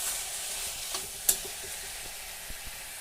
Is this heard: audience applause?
no